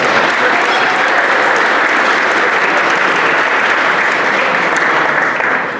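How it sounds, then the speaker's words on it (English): Sustained audience applause fills a Hall of Fame induction ceremony hall, steady and dense from start to finish before easing slightly at the very end. "Go ahead, you clap."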